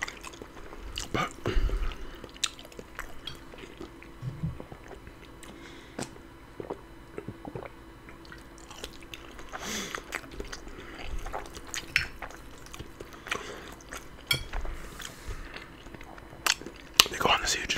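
Spaghetti and meatballs being eaten up close in an ASMR mukbang, with a steady run of moist chewing, squishy bites and small wet clicks, and soft talking woven throughout.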